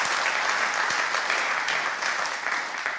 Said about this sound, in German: Den Applaus nehmen wir noch mit.